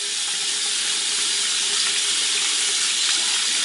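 Tap water runs steadily into a sink as a makeup brush is rinsed, a constant close hiss and splash with no talking.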